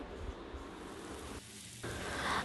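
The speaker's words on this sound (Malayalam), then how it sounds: "ഏകദേശം ഒരു ടേബിൾ സ്പൂൺ നമുക്കിതിൻ്റെ മേലയിൽ ഒഴിച്ചു കൊടുത്തിട്ട് മീഡിയം ഫ്ലെയിമിലിട്ടിട്ട് നമുക്കിത് ഫ്രൈ ചെയ്തെടുക്കാം" Mackerel frying on a tawa in coconut oil over medium flame, a soft, steady sizzle with brief crackles, quiet and close.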